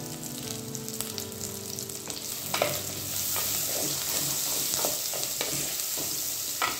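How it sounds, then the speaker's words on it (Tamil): Onions sauté in oil in a pan until golden, making a close, steady frying hiss with occasional stirring clicks. A faint humming tone sits under the first couple of seconds, and there is no speech. "வெங்காயம் வந்து நல்லா பொன்னிறமா வதங்கி வரணும், அந்த அளவுக்கு வதக்கி எடுத்துக்கணும்."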